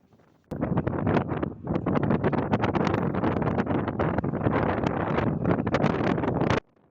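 Loud, gusty wind roaring and buffeting the microphone continuously for several seconds after a sudden start, with no voices.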